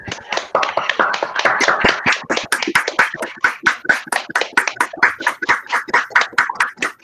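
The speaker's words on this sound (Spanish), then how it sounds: "Un aplauso para nuestro invitado" An audience claps for a guest at a Spanish-language talk event, with dense, loud, fast-paced applause from a small crowd continuing steadily throughout, without talk.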